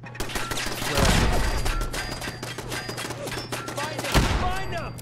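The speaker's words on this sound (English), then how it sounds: "Is something firing at the ghouls? Okay, so there's a turret down here." Rapid turret gunfire in the video game Fallout 4, dense bursts of shots running throughout with loud peaks near the start and end, while other game sounds mix in underneath.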